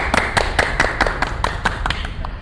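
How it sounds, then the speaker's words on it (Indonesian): Hands clap in an even, regular rhythm during the opening of an educational talk show, about ten crisp, close claps spaced evenly, loud and clear with no voices. "Tepuk tangan."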